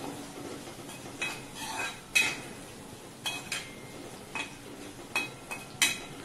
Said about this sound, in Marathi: आता हे सगळे पदार्थ छान खमंग परतून घेऊया.